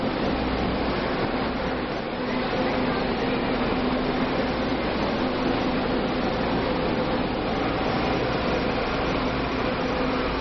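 A packed passenger train in Taiwan rolls along with a steady, loud rumble and rushing air-conditioning noise inside the carriage, continuous and unbroken throughout.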